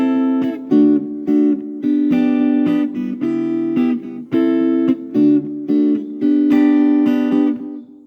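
Acoustic guitar strumming a song's verse chords in a steady rhythmic pattern with brief gaps between chord changes, close and full-bodied, no talking.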